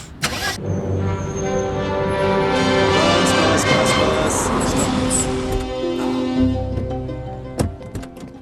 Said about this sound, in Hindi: चल बेटा गाड़ी चला